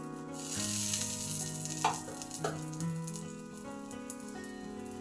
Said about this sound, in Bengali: এবারে চাপা দিয়ে 8 থেকে 10 মিনিট রান্না হতে দেব।